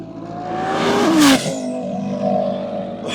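A 1000-horsepower twin-turbo Mustang roars past in a flyby, its engine note climbing loud and close, then dropping in pitch as it pulls away, with the exhaust fading off after.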